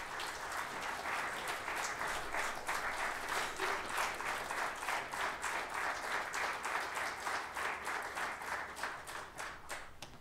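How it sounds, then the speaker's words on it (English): A crowd at a stem cell treatment lecture event applauds in a steady, dense wash of clapping that holds at an even level for the full ten seconds, with no voices over it. "So I'll give a big round of applause."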